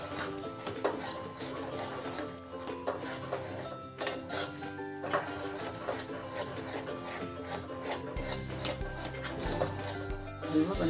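Suji halwa mixed with almonds, cashews, dry coconut, raisins and cardamom powder, stirred in a pan: continuous scraping and clinking of a spoon against metal, close, with a voice speaking briefly.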